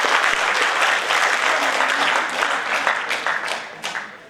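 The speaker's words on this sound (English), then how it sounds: "a big round of applause for all these achievers." An audience claps at a felicitation seminar, dense sustained applause filling the room before it thins out into scattered claps near the end.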